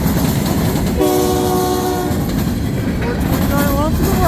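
CN freight train 5430 arriving at Ladysmith, with a loud rumble of wagons throughout and a sustained horn blast in the middle, followed by shorter squealing tones.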